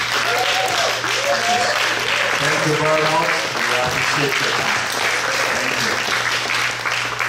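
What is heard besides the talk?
audience applauding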